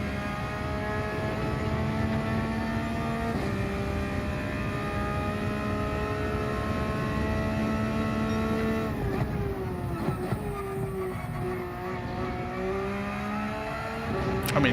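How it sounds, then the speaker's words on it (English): Porsche 992 GT3 R racing engine in Gran Turismo 7 holding a steady, loud, rich drone through long gears, then dipping and revving back up through shifts, with no talking. "the engine sound is so nice. It sounds like a much meatier version of the old Porsche."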